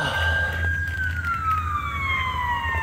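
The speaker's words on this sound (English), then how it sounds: "it's an ambulance on the roundabout." An ambulance siren on a roundabout gives a steady wailing tone that slowly slides downward in pitch, heard at moderate distance over a continuous low traffic rumble.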